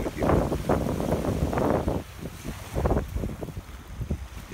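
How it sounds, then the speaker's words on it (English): Strong wind at an ocean beach buffets the microphone in loud, uneven gusts, with surf rumbling underneath and no voices. "It's really windy down here today."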